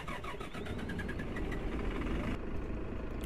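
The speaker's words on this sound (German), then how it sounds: "Starten wir mal hier den Motor." A bus engine in the OMSI 2 bus simulator game cranks with rapid rhythmic chugging, then catches and settles into a steady, rumbling idle.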